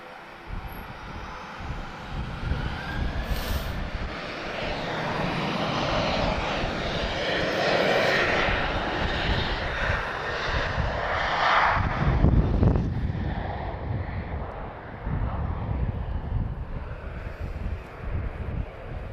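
A Boeing 737 at Lisbon Airport, its jet engines roaring steadily and fairly near, swelling and holding for the full stretch under some wind rumble on the microphone.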